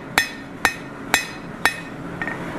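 Blacksmith hammer striking a hot steel bar on an anvil while forging a hook, four sharp ringing blows evenly spaced about half a second apart, then a softer lighter tap, with no talking.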